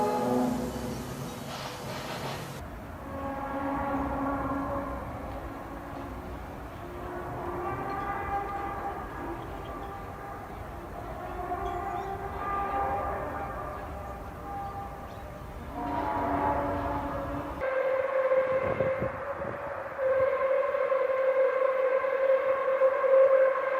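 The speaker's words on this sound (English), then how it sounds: "Odd trumpet or animal-like sounds coming from the sky all over North America and Europe" Odd trumpet-like droning tones drifting down from the sky, layered sustained wailing pitches that swell and shift over a constant low rumble, with a steadier horn-like tone entering toward the end, no speech.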